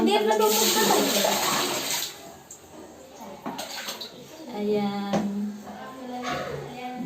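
Water is poured into a clogged home toilet, a splashing, gushing pour that rises and falls over several seconds while people talk and laugh nearby.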